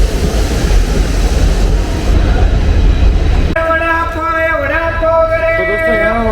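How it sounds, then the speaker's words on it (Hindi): A train arriving at Daund Junction rumbles loudly and steadily for a few seconds, then cuts to a quieter stretch dominated by a sustained wavering tonal voice. "ट्रेन पहुंच चुकी है दौंड जंक्शन"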